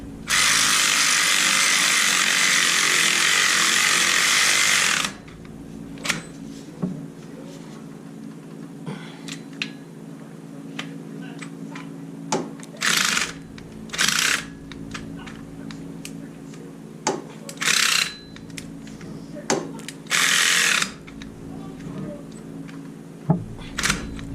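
Battery-powered tool tightening exhaust bolts on a Can-Am Maverick, its battery weak: a steady five-second whir up close, then several short, sharp bursts spaced apart over a low background hum.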